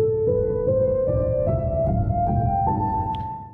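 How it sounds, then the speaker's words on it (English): A minor scale played note by note on the Scaler 2 chord plugin for iOS, a steady ascending run of about eight clear synth tones, each sustained into the next, loud and close with no talk. "A minor scales, which sounds like this."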